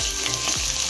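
Onion frying in a pan with grated ginger and carrots makes a dense, continuous close-up sizzle with a faint stirring scrape, heard alone for about a second.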